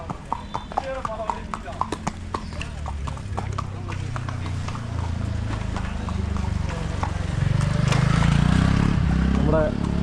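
Horse hooves clip-clop in a steady rhythm during a ride at Kodaikanal by a lake in Tamil Nadu. The nearby clopping stays loud and continuous as the ride goes on, with voices in the background.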